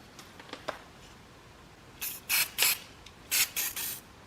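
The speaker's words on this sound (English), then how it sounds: "I'll spray a little bit of penetrating oil in there." Several short, sharp hisses of an aerosol can spraying penetrating oil onto a 2010 Toyota Camry rear wheel bearing, fired in quick bursts after a few light clicks, close by in an otherwise quiet space.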